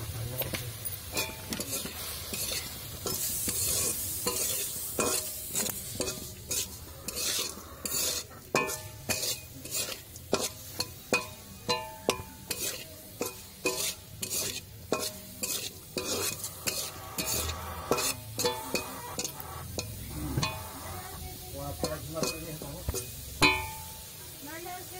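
Prawns seared with turmeric and a little salt sizzle in a pan for malai curry, with repeated scraping stirs and utensil clacks over a low fry, close by and continuing throughout.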